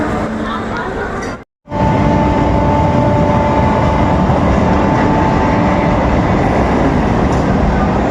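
A train rolls past at a railway station as another waits to pull in, a loud, steady rumble with faint tonal whine that drops out briefly near the start, then returns and holds unbroken.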